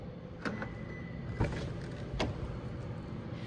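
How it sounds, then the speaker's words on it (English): A 2023 Lexus LC500 unlocking through keyless entry with the key fob nearby, heard as a few soft, sharp mechanical clicks and thunks from the door locks, quiet against a low steady background. "With our key fob on us, we can go ahead and unlock the vehicle."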